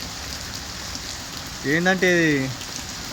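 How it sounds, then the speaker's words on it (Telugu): Heavy rain pours steadily in Dubai, a dense broadband hiss that continues throughout while someone speaks briefly over it. "కంటిన్యూ పడతారు వర్షం అయితే"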